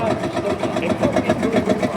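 A vintage Marshall tractor runs at a rally parade, its engine chugging in a steady, rapid low beat close by, with a voice talking faintly over it.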